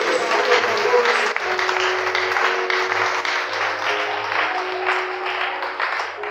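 A church congregation at a Sunday service applauds and cheers loudly and steadily, sustained clapping and voices filling the room throughout.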